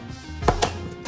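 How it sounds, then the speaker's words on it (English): Red onions and jalapenos get chopped with a knife on a board, a few quick, close, sharp chops within a second. "Chop it one more time."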